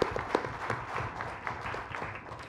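A forum audience at a public grievance policy debate gives soft, continuous applause to welcome a speaker, the clapping steady and fairly distant throughout.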